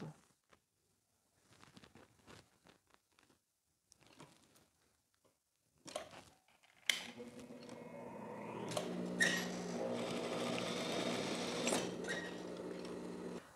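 Sewing machine stitching elastic onto the hem of a teddy jacket, starting after several seconds of faint handling sounds and then running steadily and loudly near at hand through the rest.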